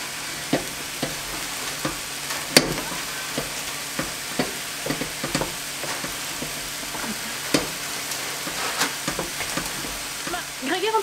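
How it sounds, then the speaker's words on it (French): Vinegar and sugar mixture stirred into cooking vegetables in a hot pan, a steady sizzle with scattered scrapes and clicks of the utensil throughout. "Je vais ajouter du coup mon mélange de vinaigre et de sucre et je vais mélanger."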